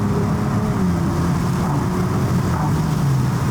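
Cabin drone from a 2023 Nissan Z fitted with an APEXi exhaust while driving: a steady, loud low engine hum with a slowly shifting tone and road noise, no speech.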